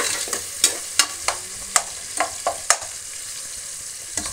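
Vegetables frying in a pan for palav, with a series of sharp scraping stirs of a spatula at an uneven rhythm over a soft, steady sizzle, close and clear with no talking.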